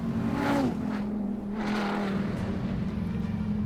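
A big 8.4-liter V10 engine in a Dodge Viper ACR sports car runs and revs close by, a deep steady rumble with a couple of rising surges.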